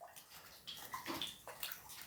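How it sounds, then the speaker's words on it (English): Water drips inside a quiet building, a few small faint drops landing one by one over a steady hiss, with no voices. "That was a drip that time."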